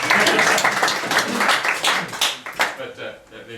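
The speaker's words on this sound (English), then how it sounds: "Give him a little applause." Brief applause from an audience at a new-instruments event, scattered clapping that swells and fades over a few seconds while someone talks over it.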